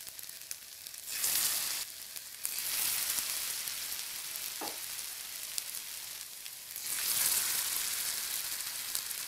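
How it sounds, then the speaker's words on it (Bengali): Soybean koftas frying in hot refined oil over a medium flame, a constant soft sizzle with bursts of louder crackling and hissing, close by and without talk. "প্রথমে তেলটাকে ভালোভাবে গরম করে নিতে হবে, তারপরে মিডিয়াম ফ্লেমে এগুলোকে ভাজতে হবে।"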